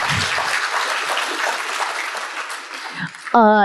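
Dense, sustained applause from a conference audience at a statistics association gathering rolls on steadily, then tapers as a speaker's voice takes over near the end.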